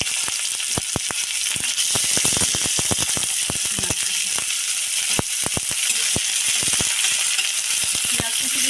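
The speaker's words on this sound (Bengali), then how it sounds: "কড়ায় সর্ষের তেল দিল, গরম হতে দিয়ে দিল গোটা জিরে, দিচ্ছে শুকনো লঙ্কা চেরা, পেঁয়াজ কুচি, এবার দিচ্ছে পেঁয়াজ কুচি।" Chopped onion frying in hot mustard oil in a wok with whole cumin and split dried chillies, a constant loud sizzle broken by many sharp crackles and pops spread across the whole stretch.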